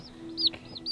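A Silkie Frizzle chicken gives a few soft, high clucks and peeps, close by and brief, with no talk over it.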